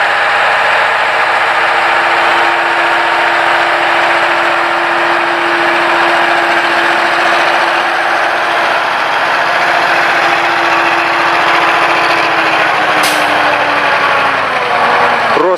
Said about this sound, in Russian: Вот он, красавец, Урал едет.